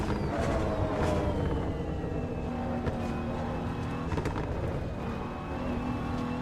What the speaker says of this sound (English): the car has this turbo spool a bit, right?